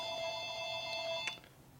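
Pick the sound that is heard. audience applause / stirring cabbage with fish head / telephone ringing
telephone ringing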